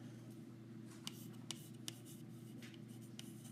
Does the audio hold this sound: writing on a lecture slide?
yes